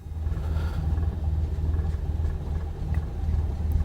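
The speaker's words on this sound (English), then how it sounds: "So now I'll just let the engines just get started" Grob Tutor aircraft engine running in Microsoft Flight Simulator, a steady low droning rumble that holds even and continuous throughout, with no speech over it.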